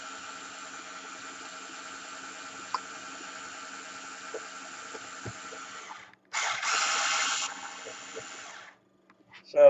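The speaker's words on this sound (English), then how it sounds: "put a twisty tie thing around the trigger of this drill" A small power drill used as a stirrer runs steadily with a whirring motor hum, then stops briefly and revs up louder before cutting out.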